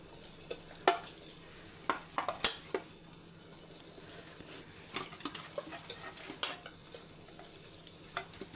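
Fish curry simmering in a pan, Kerala style, with a steady low sizzle and bubble while a spoon stirs and scrapes at intervals as fish goes in; soft scattered clinks, no voices.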